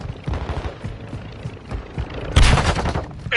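Gunfire in the Call of Duty Modern Warfare II video game: quick bursts of shots run on throughout, ending in a louder heavy blast, with no voices.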